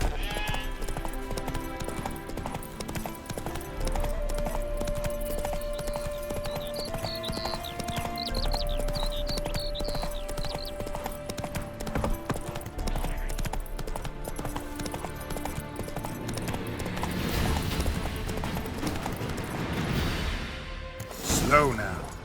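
Hooves clip-clop as a horse gallops in The Witcher 3: Wild Hunt, Hearts of Stone expansion, with a steady rhythm over game music, then a burst of rushing movement near the end.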